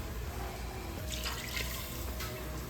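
Water is poured from a container into a pot of tomato-paste sauce in a kitchen, a quiet splashing trickle in short bursts against steady background noise.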